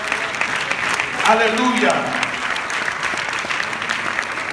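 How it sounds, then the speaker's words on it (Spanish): A church congregation at a Bible study applauds in steady, dense clapping, while a voice calls out briefly over it midway. "Denle un aplauso al Señor."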